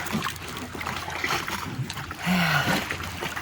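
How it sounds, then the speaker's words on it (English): Water from Lake Superior laps and splashes softly against the shoreline near a kayak, with gentle irregular wash and a louder swell toward the end, and no clear talking. "That water splashing along the shoreline."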